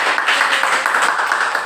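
Applause from a group of students in a classroom during a microteaching session, a steady dense patter of hand clapping lasting throughout, fairly loud and close with no talking over it.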